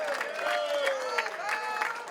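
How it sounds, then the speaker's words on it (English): A crowd at Baltimore airport cheers and claps in a hero's welcome, a steady dense roar of voices with whoops rising above it. "A crowd of people giving them the hero's welcome they deserve."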